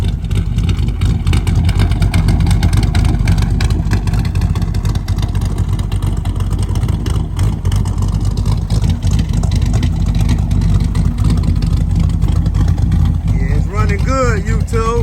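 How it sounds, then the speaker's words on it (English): An LS-swapped car engine runs loud and close with a steady, dense rumble that holds level throughout. A voice briefly cuts in near the end. "we got the car running, and it runs really good"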